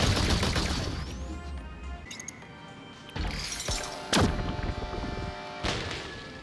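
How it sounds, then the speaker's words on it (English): A combined blaster fires in the Blasters of the Universe VR game, a series of punchy sci-fi shots and zaps with whooshing sweeps and bright crashing impacts over a constant backdrop of game noise. "The gun's firing sounds really do change considering what parts have been combined."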